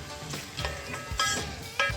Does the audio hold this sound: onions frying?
yes